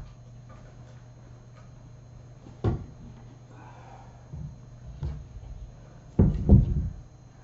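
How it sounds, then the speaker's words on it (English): A wooden cabinet door swings open in a room with kittens, giving a few soft knocks and thumps followed by a louder clatter near the end, over a low steady hum. "I'm just going to open the cabinet door all the way."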